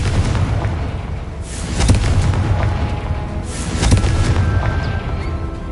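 Confringo fire spell blasts in a Hogwarts wizarding video game, two loud booming explosions about two seconds apart with crackling bursts over a rumbling background.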